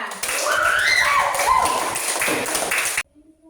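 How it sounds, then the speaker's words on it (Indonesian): Students in a classroom clap for a classmate, a steady patter of many hands mixed with children's voices, lasting about three seconds before stopping abruptly. "tepuk tangan untuk Anda"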